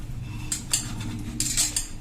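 Mango pulp is pressed and scraped through a fine metal flour sieve, making short metallic scrapes and rasps in irregular bursts close up, with no talking.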